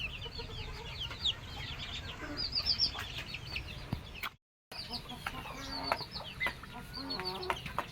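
Chickens cluck and chatter close by in a busy flock, with soft scattered calls and a brief gap of silence midway.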